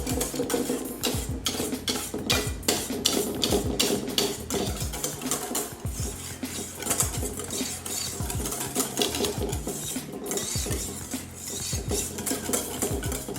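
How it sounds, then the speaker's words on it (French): Cream is whisked into pear purée in a bowl, a brisk continuous clatter of whisk wires scraping and tapping against the bowl, close and steady with rapid rhythmic strokes. "Là, je peux fouetter un peu plus fort"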